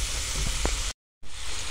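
Zucchini laid into a little hot sunflower oil in a frying pan sizzles with a close, steady hiss that cuts out briefly and then resumes.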